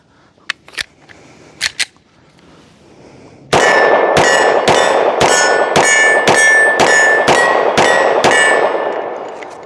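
Ruger RXM pistol loaded with a P-Mag magazine fires about ten sharp, evenly spaced shots with a metallic ring after each, after a few faint clicks and handling noises.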